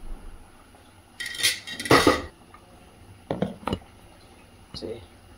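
Spoon scraping and clinking in a cooking pot while soji sweet (vonn) thickens, a few short bursts of stirring separated by pauses.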